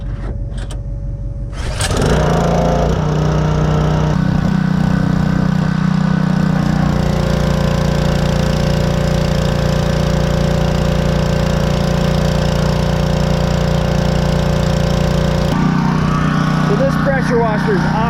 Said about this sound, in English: I'm going to hook this up and then demonstrate the pressure washer for you.